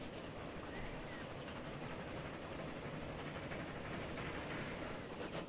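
Trains running in the video game Transport Fever 2, a steady, dense rumbling rail clatter heard throughout at a faint, even level.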